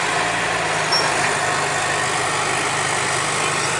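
A heavy bulldozer engine runs in a steady, dense rumble while the machine flattens and presses down a hill, holding an even loudness throughout with no talking.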